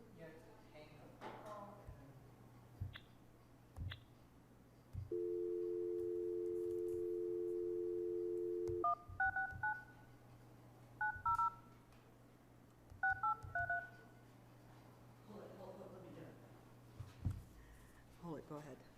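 Telephone keypad tones dialed into a Zoom call during a town council meeting: a steady held tone, then several quick paired beeps in short bursts, with people talking before and after.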